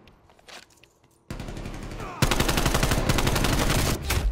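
Rapid automatic gunfire in a competitive video game scrim, starting with sparse shots and then erupting into loud, dense bursts of machine-gun fire, with players talking over it.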